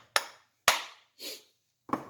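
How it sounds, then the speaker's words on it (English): A rubber mallet taps a part into place during a Graco 390PC paint sprayer pump rebuild: four separate, sharp knocks, close and clear, with quiet gaps between them. "now you're going to hit it with a rubber mallet"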